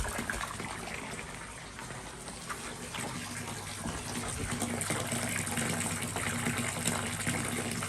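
Water steadily gushing into a koi pond as it refills, a continuous broadband rush that swells slightly louder partway through, with no talk over it.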